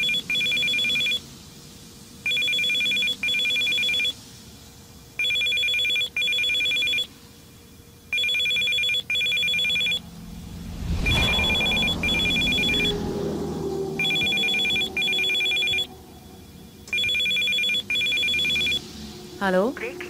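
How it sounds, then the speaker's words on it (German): A telephone rings in Still Life 2, an electronic bell sounding in paired bursts over and over at an even pace, while someone speaks German over it partway through. "Ja, es läutet der Telefon."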